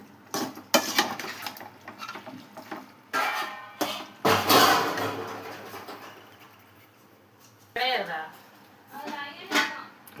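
A spoon scraping and clanking in a metal pan while tomatoes and salt are stirred for a chicken dish, in short bursts between stretches of quiet, with a voice talking over it.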